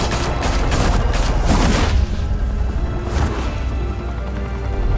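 Gunfire in a Batman game, a burst of rapid, loud shots in the first two seconds, followed by a few more scattered blasts over a rumbling background.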